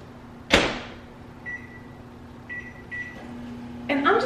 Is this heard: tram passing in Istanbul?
no